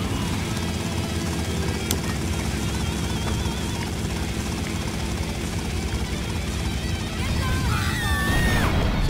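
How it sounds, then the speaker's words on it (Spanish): Helicopter rotor and engine drone from the game GTA Liberty City Stories, loud and continuous, with a crash-like burst near the end as the aircraft is brought down; a voice talks faintly underneath. "A bajar el helicóptero como corresponde"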